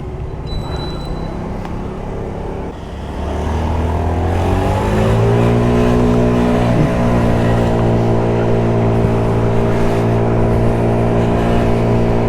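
A Mondial Wing 50 RR motorcycle rides through traffic with its small engine droning steadily, the pitch rising and settling as it gains speed, loud and close with a constant rushing wind behind it.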